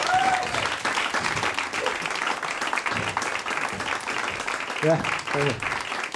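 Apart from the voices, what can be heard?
pub comedy audience applause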